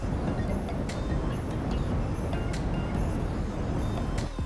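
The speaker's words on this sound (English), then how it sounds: "and white noise like this." Steady, dense broadband hiss with a low rumble, continuous and unchanging throughout, with a few faint brief clicks on top.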